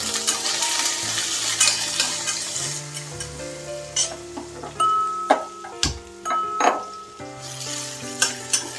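Onion fries in a pan with tamarind, Byadgi chillies and curry leaves, giving a continuous sizzle with repeated metallic clanks and scrapes of stirring, close and fairly loud.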